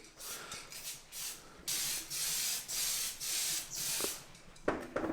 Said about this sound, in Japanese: 艶消しの黒、何でもいいんですけど、黒いスプレーをシュッシュと